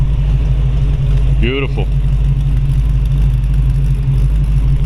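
A 1932 Ford Deuce three-window all-steel coupe idling nearby with a steady low rumble; someone speaks briefly over the engine.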